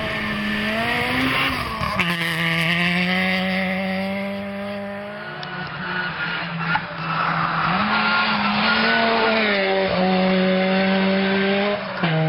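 A 2-litre Honda Civic rally car at a snow rally drives hard, its engine note rising and falling through gear changes with a strong, near, continuous howl and occasional sharp shifts.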